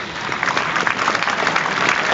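A cricket crowd at a women's one-day international between England and Pakistan breaks into warm applause, a dense, steady wash of clapping from a distant stand that swells slightly toward the end.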